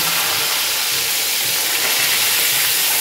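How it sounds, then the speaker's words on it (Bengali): Brinjal slices frying in oil after potatoes were fried, a loud, steady, even hiss throughout. "তো আলুটা ভাজার পরে ওই জন্য বেগুনটা এইবার ভাজছি"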